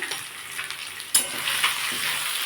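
Potatoes and spices with turmeric and chilli powder fry in a pan, a steady hissing sizzle with brief stirring scrapes and a sharp clink of a utensil partway through.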